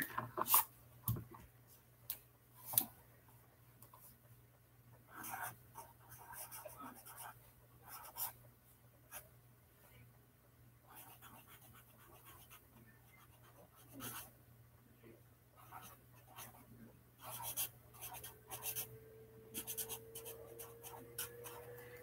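A pen scratches on paper in short, intermittent strokes, faint and close, with pauses between bursts and a low hum in the background.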